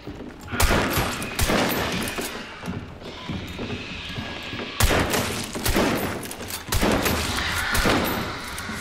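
Bursts of gunfire from a weapon in the shooter game Hunt: Showdown, several loud sharp volleys spaced a few seconds apart over a rumbling, noisy background.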